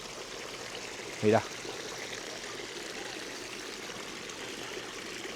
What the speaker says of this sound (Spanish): Y mira qué caños de agua más bonito.